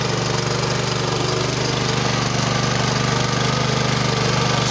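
Weima walk-behind tractor with rotavators in low first gear churning up raspberry canes and roots, a loud, close, steady engine drone with a throbbing low hum and gritty grinding texture throughout.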